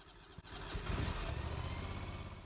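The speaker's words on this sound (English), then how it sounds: "go ahead and turn the key over until you hear the engine turn over" John Deere 727A zero-turn mower engine starting up: a short cranking burst catches into a rough, throbbing idle that settles into a steady mid-pitched running drone.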